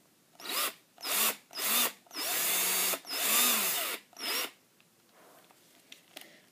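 Power drill spinning a metal rod used to coil wire for making chainmail armour, running in about six separate whirring bursts that rise and fall in pitch, with a quiet room and faint handling noises after the final burst.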